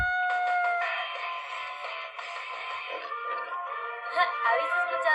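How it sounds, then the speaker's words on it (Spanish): A rooster on a farm lets out one long, drawn-out crow, close and clear, with nothing else around it. "Hace el gallito."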